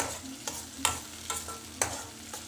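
Fresh coriander stirred through hot oil for a cabbage and pea sabzi, giving a steady low sizzle broken by several scraping stirs spaced about half a second apart, close and moderately loud with no talk.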